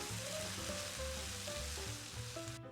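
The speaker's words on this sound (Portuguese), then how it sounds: "Agora eu vou acrescentar um tomate picado e um pimentão pequeno picado. Vou mexer tudo." Chopped tomato and small bell pepper go into a pan of softened onion and are stirred, giving a steady loud sizzle with scraping stir sounds throughout.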